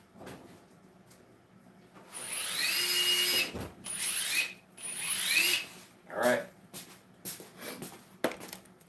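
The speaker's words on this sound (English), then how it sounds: "Metabo HPT triple hammer." A Metabo HPT triple hammer runs in several bursts, revving up and cutting off with whining, rattling tones over a couple of seconds each, while a person briefly speaks.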